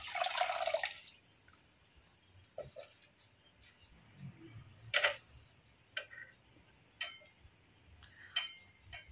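Water draining from freshly washed gandhal leaves lifted out of a bucket, a brief splashing pour at the start, then sparse, quiet drips and taps scattered across the rest.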